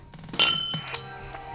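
Glasses of bourbon clinking together in a toast during a blind tasting night: a bright, close ring followed by a few lighter overlapping clinks.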